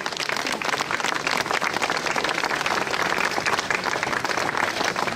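Steady, dense applause from an audience at a horse presentation during the Beau Marché 2025 fair in Toucy, France, a continuous wash of many hands clapping without pause.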